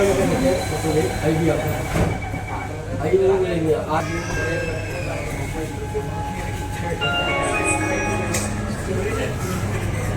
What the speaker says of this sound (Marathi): पहिल्यांदा प्रवास करतोय भारी वाटतंय अंडरग्राऊंड मेट्रो